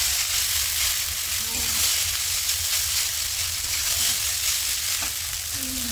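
Chowmein fries in white oil in a wok with a continuous loud sizzle and crackle, steady throughout with faint stirring scrapes underneath.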